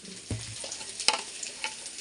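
Potatoes fry in oil with chili in a pan, a steady close sizzle broken by a few sharp clicks of stirring and utensil knocks, with no talking.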